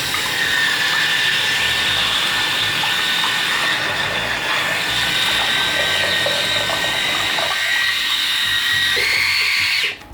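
A Brio Raze electric head shaver runs continuously with a steady high mechanical whir and buzz, close and loud, with no talking, then cuts off at the very end.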